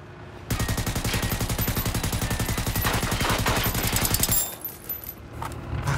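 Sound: gunfire at the player in the Generation Zero video game

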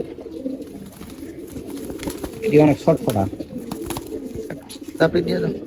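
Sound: army pigeon cooing

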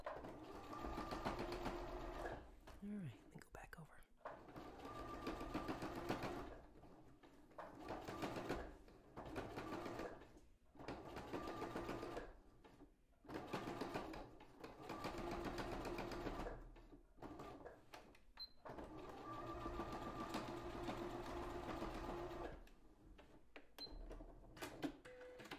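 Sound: sewing machine stitching arms of a stuffed toy

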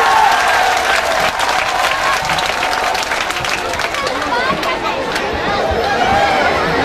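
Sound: crowd applauding at a reception

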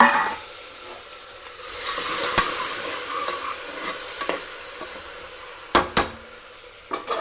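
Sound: onions and tomatoes frying and stirred in pan

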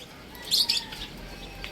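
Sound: pigeons chirping and flapping

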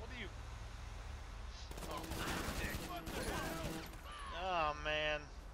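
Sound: gunshots in video game GTA V

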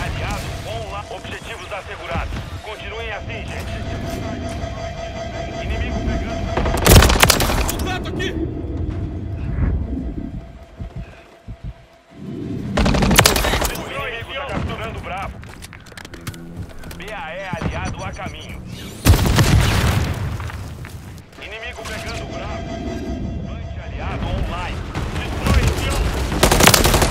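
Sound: gunfire in Call of Duty: Modern Warfare 3 video game

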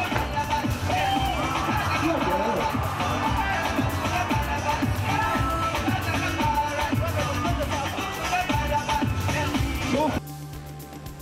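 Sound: football match crowd of about 15,000 fans

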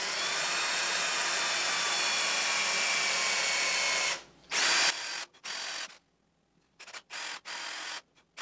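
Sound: power drill drilling holes

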